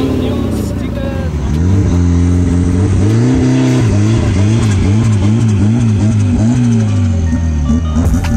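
A hill climb race car engine revs hard during a practice session on the Mahagastota hill climb course, its pitch repeatedly rising and falling through gear changes, loud and close throughout.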